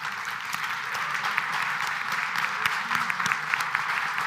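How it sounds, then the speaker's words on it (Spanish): An audience at a business conference in Chile claps together in sustained, dense applause with scattered sharper claps, moderately loud and steady throughout with no talk over it. "Así que un aplauso,"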